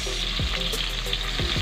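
Garlic frying in a pan for pork liver sauté, a steady broadband sizzle throughout with a few soft stirring scrapes, close and continuous with no talking.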